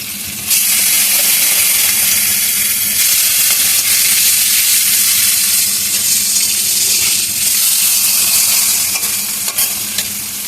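Small local fish sizzle loudly in hot oil in a wok as they are stirred and turned, a steady close crackling hiss with scraping movements lasting about ten seconds.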